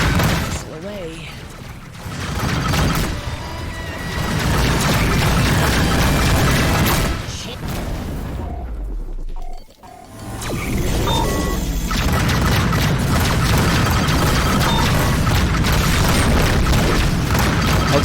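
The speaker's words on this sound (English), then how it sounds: "Missile away." Missile launch and explosions during a space combat dogfight in Rebel Galaxy Outlaw, with loud booming blasts, crashing impacts and mechanical whooshes layered densely throughout, a brief drop near the middle before the barrage resumes.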